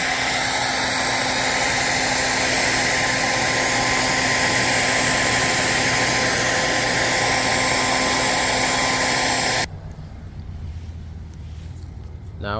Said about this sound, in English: Now I just keep doing that with the heat gun a couple of times